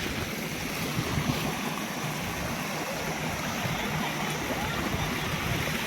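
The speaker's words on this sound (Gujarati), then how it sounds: "આ પાણી આવેલું જાય છે" River water flows steadily at the Triveni confluence, a continuous rushing wash that stays broad and even from start to finish, with no voices over it.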